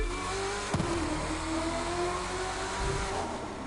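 American race car engine in The Crew 2 during a Washington D.C. speed race, a steady, loud droning roar that holds its pitch with a brief sharp knock near the start.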